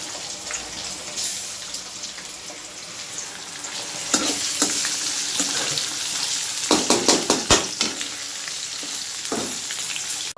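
Onion and spices sizzle and fry steadily in a home-kitchen pan, a continuous crackling hiss broken by several sharp clinks and scrapes of stirring near the end.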